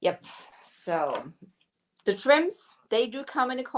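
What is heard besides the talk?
No distinct noise like a dog, phone or traffic.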